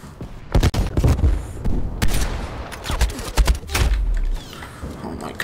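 Gunfire in the video game Call of Duty Black Ops Cold War, sniper rifle shots among rapid bursts of loud, close reports and booms in quick succession, with game effects filling the gaps.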